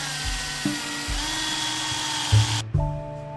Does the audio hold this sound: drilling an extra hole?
yes